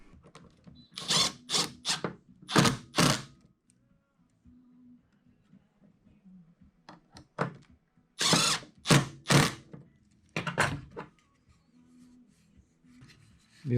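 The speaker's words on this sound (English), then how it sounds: "Now I'm going to countersink this" A power drill countersinks screw holes in a metal mounting plate for a bass boat graph mount, several short loud whirring bursts in two clusters with quiet gaps between.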